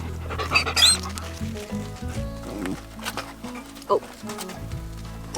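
A dog pants and gives a few short vocal sounds near the listener, with people talking and outdoor movement in the background.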